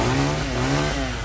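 A chainsaw cuts through a tropical almond tree in rural Dong Thap, its engine whining loud and close with a steady pitch that dips briefly mid-cut.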